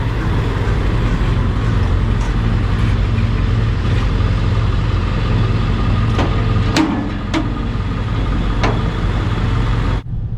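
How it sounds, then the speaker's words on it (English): An engine-powered straw blower at a landscaping job drones steadily and loudly for the whole stretch, its low engine rumble and airy rush of straw forced out of a tube holding constant before cutting out at the very end. "I stand right here, feed the bales into here, and then it just blows it out of that tube."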